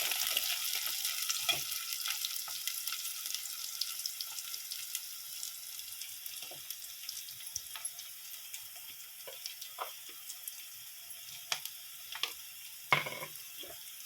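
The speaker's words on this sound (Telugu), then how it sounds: "ఇప్పుడు పచ్చిమిర్చి, కరివేపాకు వేసిన. అది కొంచెం వేగనిచ్చి" Green chilies and curry leaves fry in oil for egg curry, a thin constant sizzle with scattered small crackles and light stirring taps up close.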